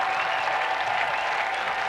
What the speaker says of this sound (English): the round of applause you hear in the background is for none other than former Blue Jay Matt Stairs